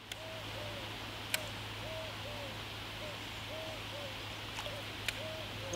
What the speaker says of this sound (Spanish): Solo escuchamos el cantar de los pájaros